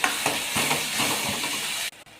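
Garlic hits a hot pan with onion and tomato for a cauliflower sabzi, giving a steady close sizzle with a few soft stirring scrapes, which cuts off near the end.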